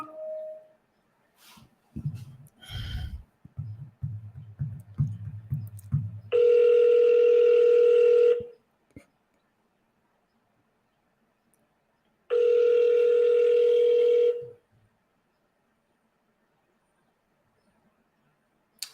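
An outgoing phone call rings back unanswered: after some faint handling clicks, two long steady ringback tones sound several seconds apart, clear and loud against near silence.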